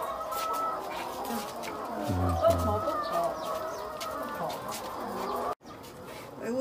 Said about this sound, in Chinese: 你看你们小鸡。